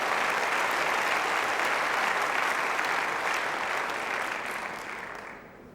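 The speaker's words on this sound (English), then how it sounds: "So the applause there, causing Corsi to delay just a little before bowling this" Spectators at a lawn bowls match break into sustained applause, a broad wash of many hands clapping at close range, holding steady and then tapering away toward the end.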